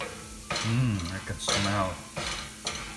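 Spices with turmeric fry in a pan over high heat, a steady sizzle broken by scraping stirs as a person talks over it.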